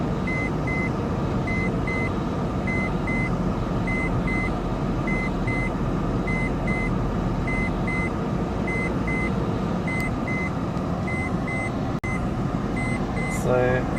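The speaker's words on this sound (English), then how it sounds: "it's just idling with the air conditioner off" A Honda N-One with a CVT idles in drive with the air conditioner off, giving a steady low engine drone throughout. A repeating electronic beep sits over it at a regular interval, and a brief click comes near the end.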